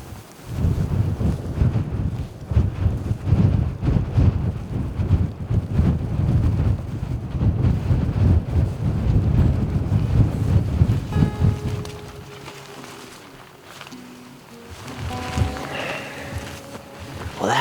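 Strong wind buffets the microphone outdoors on an elk hunt, a loud rushing roar that gusts steadily for most of the stretch, then drops to a quieter lull with faint tones.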